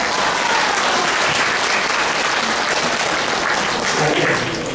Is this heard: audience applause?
yes